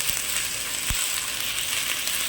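Tomatoes sautéing in an iron kadai for chicken sukka give a steady, close sizzle of frying, broadband and even throughout, with one brief low thump partway through.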